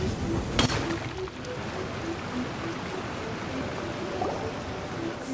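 A waterfall in Genshin Impact gives a steady, even rush of falling water that holds at one level, with faint tones drifting over it.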